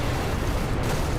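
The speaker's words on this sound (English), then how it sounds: "mushroom clouds. They are atomic explosions" Rumbling, continuous blasts from a modded weapon firing tiny atomic explosions in Fallout New Vegas, loud and heavy in the low end with no pause.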